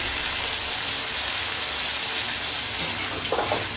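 Water poured into a pan of chickpea curry, a continuous splashing rush that stays steady throughout, with no talk.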